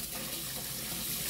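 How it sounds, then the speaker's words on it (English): Cold tap water runs steadily into a sink as chicken drumsticks are washed, a continuous close hiss and splash with no speech. "I make sure that I wash it thoroughly in cold water"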